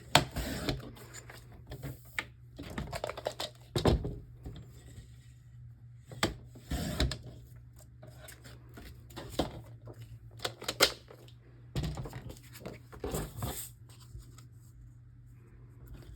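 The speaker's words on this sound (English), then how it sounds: "So I'm going to cut the base red down to 5x7 as well." Red base paper being cut down to 5x7 for a Christmas canvas craft, heard as a series of short, close scraping and sliding strokes at irregular intervals over a steady low hum, with no talking.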